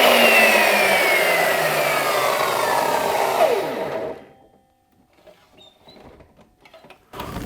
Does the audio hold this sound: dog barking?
no